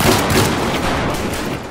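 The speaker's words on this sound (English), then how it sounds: "Ooh, flashbang. That hurts my face." A flashbang grenade goes off in the game Battlefield 4, producing a loud, dense burst of noise that holds for most of the moment with mixed rumble and crackle, then slowly fades.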